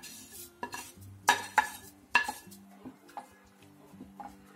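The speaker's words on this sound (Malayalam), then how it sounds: "നമ്മുടെ വെർമിസെല്ലി ഈ തിളച്ച വെള്ളത്തിലോട്ട് ചേർത്ത് കൊടുക്കാം" Roasted vermicelli is tipped into boiling water in a pan for upma and stirred. A metal spoon clanks sharply against the pan a few times, then gives softer scrapes and taps.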